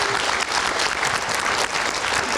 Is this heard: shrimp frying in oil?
no